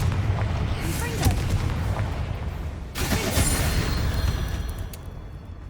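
Two booming Confringo explosion spells go off in Hogwarts Legacy, each a loud burst with a rumbling tail, the second landing around midway amid ongoing combat noise.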